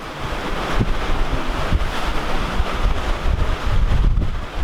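Strong wind roaring and buffeting a microphone aboard a sailboat in stormy seas near Antigua, with surging water and waves beneath, loud and continuous throughout.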